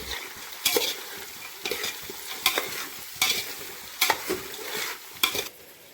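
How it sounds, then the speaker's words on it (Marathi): Vegetables for pulao fry in ghee while a spoon stirs them, each scrape landing as a bright broadband burst roughly once a second over a steady sizzle, close and alone. "आणि आता पुलावची भाजी आपली मस्त सगळी अशी तुपामध्ये मस्त फ्राय होऊन दिली"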